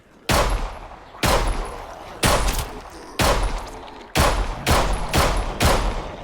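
Loud gunshots ring out one at a time at uneven intervals in the zombie survival game HumanitZ, about eight sharp reports, each trailing off into a short echo.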